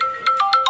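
A melodic phone ringtone signals an incoming call, its repeating bright electronic tones ringing out clearly and fairly loud in a pulsing pattern with no voices over it.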